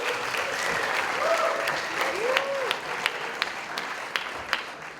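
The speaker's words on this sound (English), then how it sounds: "let's give a big round of applause for LivingLAB" An audience at a startup competition grand finale gives a sustained round of applause, dense steady clapping that fills the hall and thins into scattered claps near the end.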